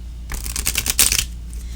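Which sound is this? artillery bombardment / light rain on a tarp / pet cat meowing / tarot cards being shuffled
tarot cards being shuffled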